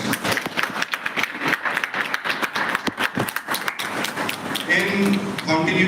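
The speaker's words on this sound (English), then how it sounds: "Please give a huge round of applause to our guests." Audience applause for guests at a live event at Minerva Group of Colleges, Indora, ripples through as scattered claps under a speaker's amplified voice, then swells into fuller, steadier clapping near the end.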